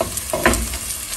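Onion hits hot oil in a small cooking pot, giving a close sizzling hiss with a couple of stirring scrapes and a brief burst midway, moderately loud and with no talking.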